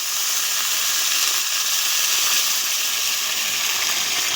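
Paneer-free brinjal curry in a pan hisses and sizzles steadily after water is poured in, a loud, close, continuous broadband fizz with no talking.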